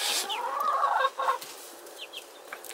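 A hen clucks in short bursts near the microphone, with a few softer chirps afterward in a quiet outdoor setting.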